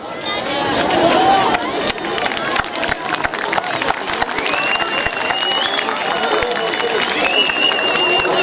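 Loud, sustained applause from a large outdoor crowd at a Gölcük municipal Republic Day concert, with the clapping carrying a murmur of voices and light cheering throughout.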